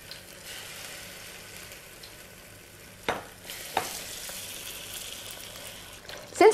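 Sweet potatoes and chicken fry in vegetable oil in a pot, a steady low sizzle with a couple of sharp clacks of stirring and a louder scrape at the end, with no voices.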